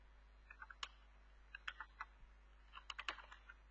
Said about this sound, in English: Here I'm just typing female